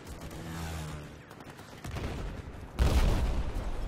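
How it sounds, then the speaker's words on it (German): Gunfire in Battlefield 4 multiplayer, with scattered distant shots and then a louder burst of fire near the end over the game's steady background noise. "Und wo kommen denn die ganzen Schüsse hier zum Teufel?"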